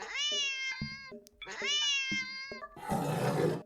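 A cat reacts to a laser pointer dot with two long, loud, drawn-out meows, then a harsh hissing, growling outburst at the end, alone and close.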